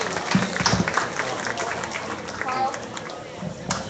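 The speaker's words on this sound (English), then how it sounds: "Let's give these young individuals a nice round of applause" A crowd claps steadily in a busy, sustained round of applause at a county fair swine show while an announcer talks over the clapping.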